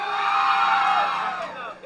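At a contest show in Quilalí, Costa Azul, the crowd erupts for contestant Walkiria with loud whoops, shouts and screams, a bright burst of cheering that tapers off after about two seconds.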